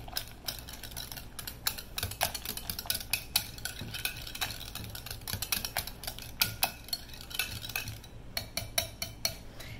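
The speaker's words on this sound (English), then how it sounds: "And now we're going to whisk it and fold in the pineapple." A whisk clatters against a bowl while pineapple pudding is mixed and pineapple is folded in. The quick, uneven metallic clicks and taps come close up and steady, with no talking.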